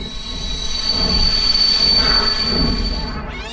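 A train rolls across Brunel's 1838 brick-arched bridge, its wheels squealing loudly along with a steady rumble and a high sustained whine that builds and then fades away.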